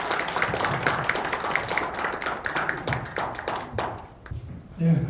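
Audience applause welcoming lecturer Kim Hong-gi at a humanities lecture at a Daejeon cultural center: dense, continuous clapping from a crowd for several seconds, thinning toward the end, with some voices mixed in.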